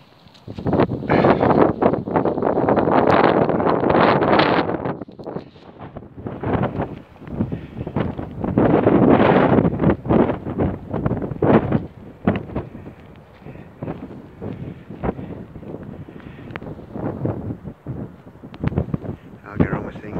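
Wind gusting across a winter coastline, buffeting the microphone in loud, rumbling surges that rise and fall over about twenty seconds, with quieter rustling gaps between the blasts.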